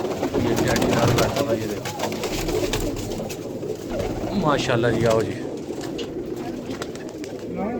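Pigeons coo in a loft, their soft throaty calls repeating under a voice talking throughout and another voice calling out.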